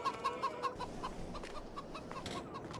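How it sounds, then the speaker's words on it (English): Chickens cluck inside a chicken barn in Farming Simulator 22, a quick run of soft, close clucks in an irregular rhythm over low background hum. "this is the chicken barn"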